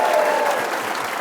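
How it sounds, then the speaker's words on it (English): A brief burst of dense audience applause at a political panel event, many hands clapping steadily and loudly without pause. "give them all individually a round of applause"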